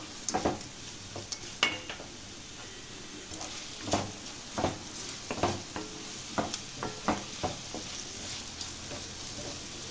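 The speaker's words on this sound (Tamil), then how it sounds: "இப்போ நல்லா வதக்கி விட்டுடலாம்." Chicken gravy base with rock salt being sautéed in a pan, a steady sizzle broken by repeated scraping stirs of a spoon against the metal, several distinct strokes spread across the stretch.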